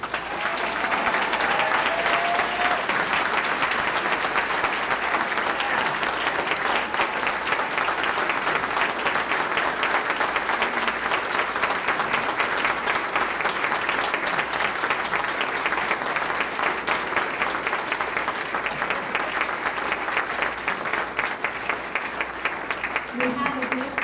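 Banquet audience applauding in a hall, dense sustained clapping from many hands holding steady for over twenty seconds, with voices mixed into the crowd noise.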